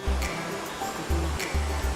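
Waterfall at Sarang Walet in Kembang Kuning tourist village, Lombok, a steady broadband rush of falling water with low rumbling surges recurring every half second or so.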